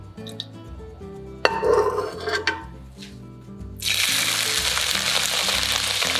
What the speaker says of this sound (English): So let's heat the cooking oil in a pan.